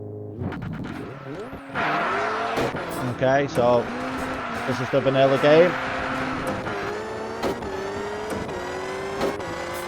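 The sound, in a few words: four-wheel-drive rally car driving in video game Richard Burns Rally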